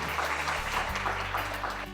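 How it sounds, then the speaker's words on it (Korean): An audience applauding a high school team after its presentation at a national mock trial competition, a continuous burst of many hands clapping with a low background hum. "수고했다고 박수 한번 보내실까요?"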